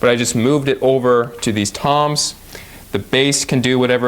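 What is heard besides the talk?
No everyday noise stands out behind the speech.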